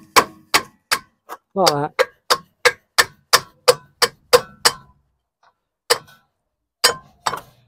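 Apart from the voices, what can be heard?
tapping brake drum off Volvo V70 rear brakes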